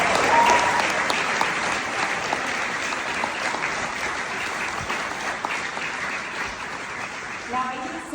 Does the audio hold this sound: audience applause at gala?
yes